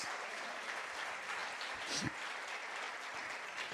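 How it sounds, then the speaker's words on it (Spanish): Church congregation claps for the Lord in a soft, even spread of applause that lasts throughout, with a faint voice rising briefly midway. "Fuertes aplausos al Señor."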